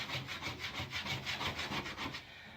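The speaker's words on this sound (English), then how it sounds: "it's going to take a bit more of a scrub." A brush scrubs moldy, built-up grout in quick back-and-forth strokes, about a dozen rhythmic rasping passes, close and fairly quiet with no talking.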